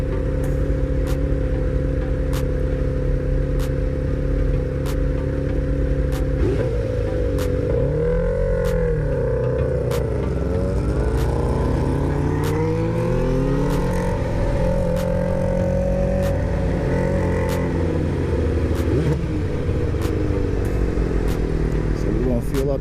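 Motorcycle engines run steadily and loudly on a ride, with a continuous close engine drone shifting in pitch as the bikes rev and change speed, wind noise throughout.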